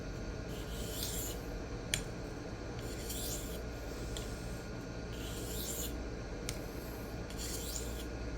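A tanto knife blade is sharpened freehand on a flat diamond stone, a close, rhythmic gritty rasping in repeated strokes of about a second each, with an occasional light click.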